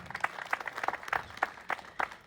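Brief scattered applause from an audience at a village gathering, quick bursts of clapping rising and falling over about two seconds, moderately near and fairly thin.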